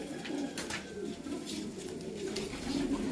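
Breeding pigeons in a home loft coo in a steady, low, rounded murmur that rolls on without a break, close and moderately loud, with no one speaking over it.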